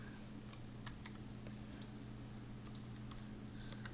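Keystrokes from a computer keyboard tap out an irregular run of quick, light clicks while building in LEGO Digital Designer, faint over a steady low electrical hum.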